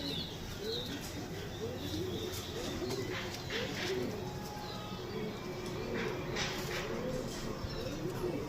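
Rampuri pigeons coo repeatedly in soft, rolling phrases, with faint chirps and rustling behind them, heard close at low volume.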